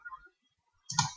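Computer keyboard keys click in two quick bursts, a light patter of taps, then a short silence, then a louder cluster of clicks, heard close and alone.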